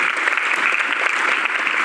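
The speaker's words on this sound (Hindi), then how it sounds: "एक बार जोरदार तालियां।" Loud, sustained applause from a crowd at a youth gathering cheering Neeraj Chopra, close and continuous clapping with no pauses.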